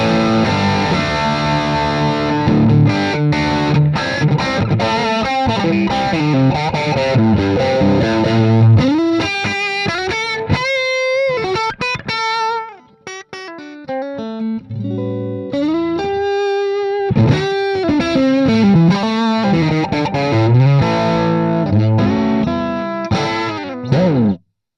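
Distorted electric guitar played through a BluGuitar AMP1 100 watt amplifier, with sustained chords and riffs, a brief pause near the middle, then more loud overdriven playing.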